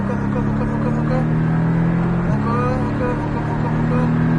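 A Porsche Cayman S accelerates around the Magny-Cours circuit, its engine a steady loud drone heard from inside the car throughout, with a brief shift in pitch midway.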